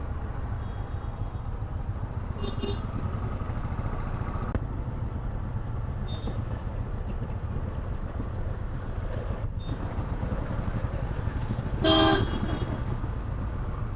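Stalled traffic jam on a Bangalore road, with a constant low engine rumble of idling motorcycles and cars and a few short horn toots, one louder honk near the end.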